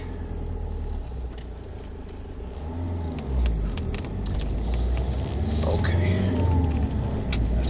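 A 2000s MG ZT CDTI diesel saloon, roughly 130 bhp, on the move, its engine running with a steady low rumble that swells as it picks up speed, heard from inside the car.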